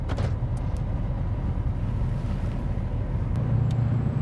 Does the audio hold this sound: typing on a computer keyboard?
no